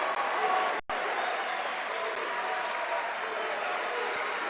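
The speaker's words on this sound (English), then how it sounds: "Listen to this crowd." The crowd at a 2020 PCL high school basketball quarterfinal between Bonner and Roman Catholic roars and applauds in a continuous loud wash of cheering, briefly cut near the start.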